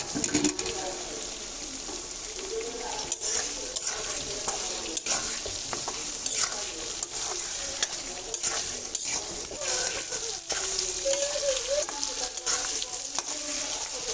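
Potatoes sizzle and fry in hot oil with a spice mix and bay leaf for chicken kosha, with steady crackling broken by scraping stirs, loud and close throughout.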